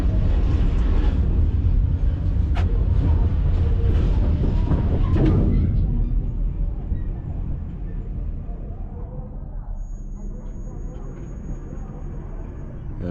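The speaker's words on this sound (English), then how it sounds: "There are some more trains here." A heavy rumble of a passing train in a rail yard in Tunisia fades over several seconds into a quieter, distant hum, with a faint high tone near the end.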